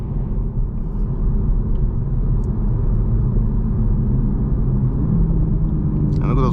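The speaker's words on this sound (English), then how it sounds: "And look at those downshifts" A Toyota Supra A91 engine rumbles loudly and steadily up close as the car downshifts, a deep continuous drone that changes briefly at the very end.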